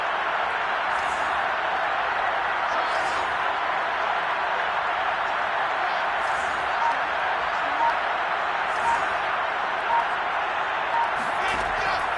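A stadium crowd in the Madden 22 American football video game gives off a continuous, steady roar that holds at an even level throughout, with faint sharper accents rising out of the mass.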